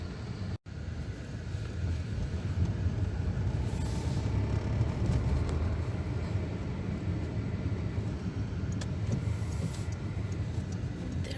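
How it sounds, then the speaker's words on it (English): A car drives along a road into town during a lockdown in Ireland, giving continuous close engine and tyre rumble with wind noise inside the cabin, steady throughout with no talking. "we're just driving into town now"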